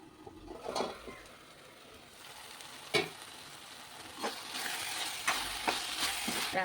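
Tomatoes and amaranth leaves sizzle steadily in a hot pan for a Telugu tomato-amaranth curry, with a few sharp scrapes and stirs breaking through the continuous frying hiss.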